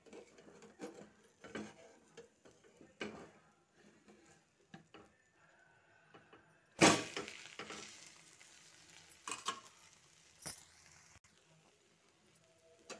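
An egg omelette cooking in a pan: quiet sizzling with scattered scraping and clinking of a utensil, then a sudden loud burst of frying around the middle when it is flipped, followed by lighter sizzles and taps.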